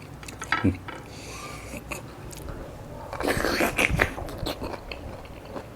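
Fresh giant blood cockles are bitten and chewed up close, with crisp crunching bites and wet chewing in irregular bursts, strongest near the start and around the middle, amid faint murmured sounds.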